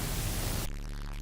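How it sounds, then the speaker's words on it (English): Heavily distorted audio in an extreme distortion demonstration: a harsh, loud wall of crackling static that abruptly drops partway through to a duller, buzzing hum, with no voice present. "we may automatically think of distortion sounding like this"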